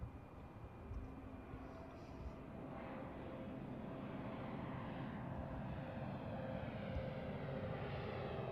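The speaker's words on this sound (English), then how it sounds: "I can hear the Ruslan from here. I can hear the engines, man." Distant Antonov An-124 Ruslan jet engines departing Milan Malpensa, a steady low broadband roar that swells slightly over time, heard faintly from far away with no talk.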